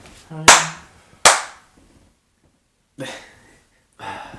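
A few sharp hand claps ring out, two loud close ones close together and then two softer ones after a pause, set among casual podcast chatter that is mostly quiet here.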